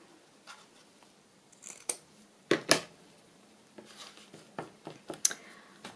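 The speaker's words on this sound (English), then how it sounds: "Okay, just trim this off." Scissors trim paper for a vintage travel journal: a series of crisp, close snips and rustles in irregular bursts, with a couple of louder cuts, and no talking.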